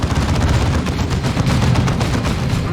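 Artillery barrage from the Dawn of War II Chaos Rising strategy game: a dense, continuous roll of heavy booms and rapid gunfire, loud and sustained throughout with no pauses.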